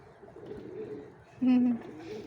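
A single soft, low pigeon coo rises out of quiet background murmur near a feeding flock, brief and close.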